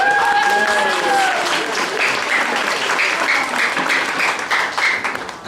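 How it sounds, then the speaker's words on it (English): Crowd applause for volunteers at a Sovereign Hill show in Ballarat, Victoria, rising from under a voice at the start into a steady, close clatter of many hands that tapers near the end. "How about a round of applause for our volunteers?"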